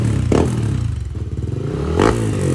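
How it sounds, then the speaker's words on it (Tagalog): A Yamaha Aerox V2 super stock scooter engine revs up sharply twice, a rough throttle burst at the start and another near the end, idling in between. "Galit na galit ang makina."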